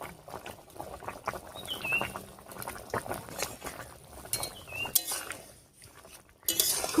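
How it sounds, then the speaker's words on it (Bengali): River fish curry with yardlong beans and potato bubbles in a pot over a village fire, a steady close boil with occasional utensil clinks and scrapes. "রান্নায় বেশ কিছুক্ষণ বলক উঠে গেছে।"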